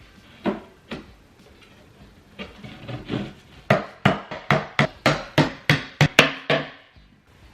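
Sharp wooden knocks, a few spaced blows and then a quick run of about a dozen rhythmic hammer strikes on a wooden drawer, close and loud.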